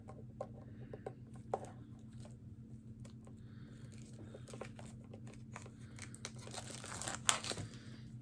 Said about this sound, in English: I'm getting it unwrapped now.